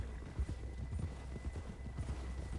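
Horse galloping in Red Dead Redemption, a quick steady run of hoofbeats at moderate distance with a faint background hum throughout.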